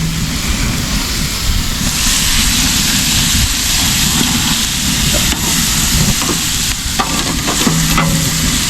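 A hot backyard grill fire with vegetables cooking over it gives a steady, loud sizzling hiss that runs unbroken throughout, close to the microphone and with no voices.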